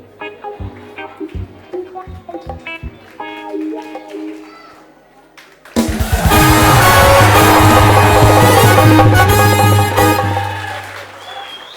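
A game show studio audience bursts into loud, sustained applause for the winner on Dharti MalaMaal, after a stretch of music and talk, and the clapping fills the last six seconds.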